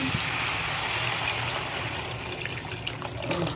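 Steady splashing of water being poured into a cooking pot of eggplant curry, a continuous trickling wash that fills the clip with a few faint clinks near the end.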